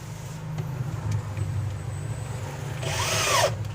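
A power drill drives screws into a standing dressing table, model WD-616, during assembly, giving brief whirring bursts with a louder rising whine near the end over a low background rumble.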